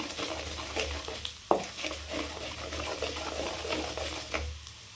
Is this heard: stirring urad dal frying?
yes